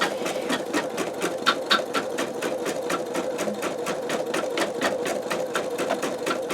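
An embroidery machine stitches a straight line and a small curve through fabric held in a MagnaHoop magnetic hoop, its needle pounding out a steady, rapid rhythm at close range with no talking.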